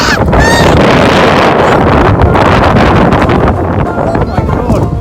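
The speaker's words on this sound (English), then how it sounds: "It's really windy, guys." Strong wind buffets the microphone in a steady, loud roar outdoors, with brief voices and bird-like honks poking through the rumble.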